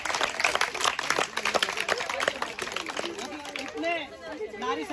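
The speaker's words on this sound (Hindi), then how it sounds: "गरिमा मैडम के लिए भी जोरदार तालियां।" Clapping at a Mother's Day gathering honouring rural mothers in India, dense broadband bursts over a couple of seconds, with voices and chatter rising over it toward the end.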